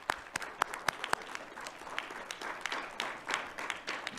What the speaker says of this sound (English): we should applaud that